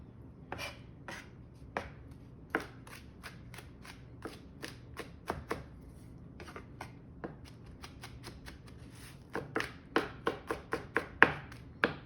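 Garlic is minced by hand with a knife on a board as a series of quick, fairly quiet chopping taps at an irregular rhythm that turn faster and denser toward the end. No speech.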